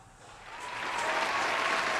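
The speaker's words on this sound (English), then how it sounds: "audience, let me get an applause of how your Halloween was" Audience applause swelling up after a short quiet start, a dense wash of clapping that grows louder and holds steady, with no talking over it.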